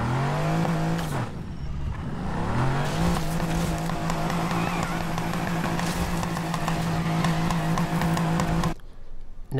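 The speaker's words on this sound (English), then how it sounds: "Let's listen to the engine noises and see what they sound like. So yeah, definitely V8." An Aston Martin V8 in the racing game NFS Heat revs hard and holds a loud, steady engine drone after a brief dip. The sound cuts off abruptly near the end.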